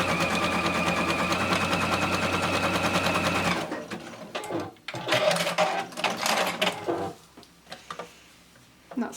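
A sewing machine runs a tight zigzag stitch for machine appliqué, a rapid, even mechanical chatter for several seconds that then stops, followed by scattered handling clicks and rustles.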